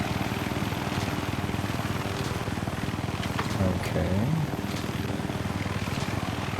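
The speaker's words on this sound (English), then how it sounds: "Let's look at this. Littlebird. Alright, let's see if I'm good at piloting helicopters." Littlebird helicopter in the Minecraft Superb Warfare mod, a steady whirring rotor and engine drone running continuously throughout, with a brief rise in pitch near the middle and someone speaking briefly over it.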